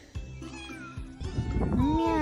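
A person imitates a cat's meow in a drawn-out, rising and falling nasal voice, loud and close, with a few short vocal bursts before it and the meow swelling toward the end.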